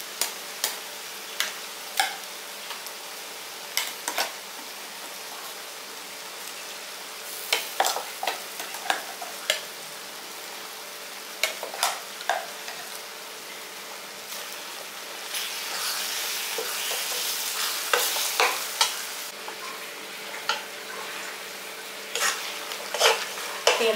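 A ground paste for tomato pickle sizzles and fries in a pan while a utensil scrapes and stirs at intervals, the sizzle swelling louder partway through.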